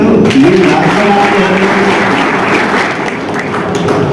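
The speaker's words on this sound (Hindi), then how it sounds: "अच्छा, आप लोग ताली बजाओ" Steady applause from an audience at a political speech in Delhi, a dense wash of clapping holding evenly for several seconds with a faint voice underneath.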